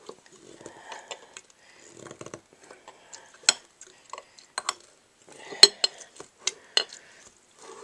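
A cocktail muddler presses rosemary and lemon together in a glass, giving sparse irregular clinks, taps and scrapes, close and fairly quiet with short pauses.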